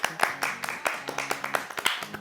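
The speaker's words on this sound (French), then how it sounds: "Ouais, on s'applaudit." A few people clapping together indoors in a casual home setting, a loose run of close, uneven claps over about two seconds with voices talking over them.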